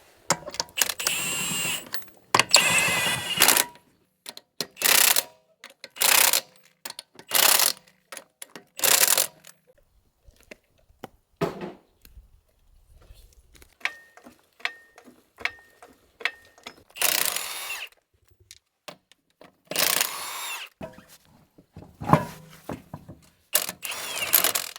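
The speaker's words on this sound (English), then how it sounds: "It really speeds up using these impact guns so you don't over tighten them." An impact gun fitted with torque sticks tightens lug nuts in repeated loud rattling bursts separated by quiet gaps, with faint clicks and clanks between them.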